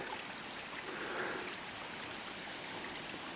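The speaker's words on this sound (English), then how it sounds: "Another little spring." A small mountain spring trickles beside a hiking trail, a steady, close, broadband wash of running water that stays even from start to finish with no voices.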